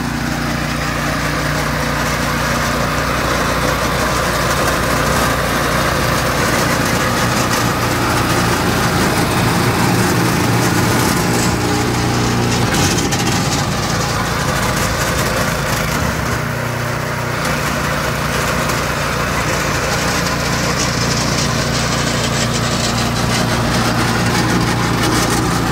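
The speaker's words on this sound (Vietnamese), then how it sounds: "Máy nổ cực kỳ chắc." A motorized power barrow engine runs continuously at a steady, loud idle-like throttle, a rough droning rumble close by with no breaks throughout.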